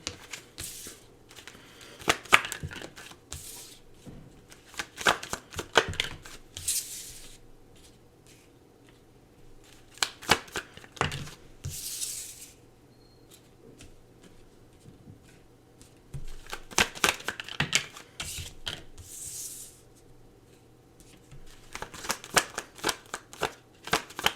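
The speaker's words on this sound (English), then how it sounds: "let me just pull some cards here for you and then we'll begin" Tarot cards shuffled close by in quick riffling bursts that come and go in uneven clusters, with quiet pauses between rounds and no voices.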